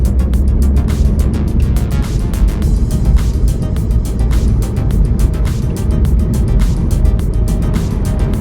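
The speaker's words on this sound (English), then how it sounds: "this car drives absolutely fantastic on the motorway, on the highway. We're driving 70 miles per hour" A cheap £200 car cruising at 70 mph on the motorway, a constant low road and engine rumble with steady wind noise and no speech.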